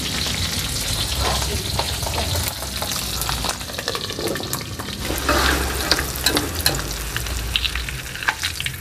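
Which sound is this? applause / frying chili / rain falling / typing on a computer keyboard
frying chili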